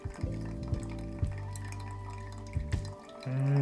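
Hot water pouring from a HARIO V60 Fit drip kettle into a coffee dripper, a gentle steady trickle with a couple of brief breaks as the pour is cut off and restarted, close and fairly quiet.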